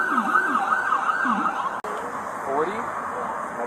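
Wailing ambulance siren sweeps up and down, loud and steady throughout, arriving at a police scene with traffic noise beneath.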